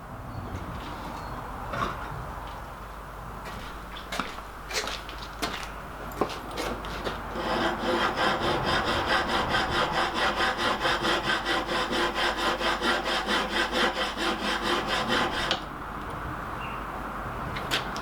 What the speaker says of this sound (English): We're going to do the first bit of this, draw filing it, so we don't take off a lot.